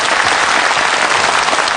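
An audience at a Yue opera interview program bursts into dense, steady applause to welcome a guest onstage, a loud, even wash of many hands clapping with no voices.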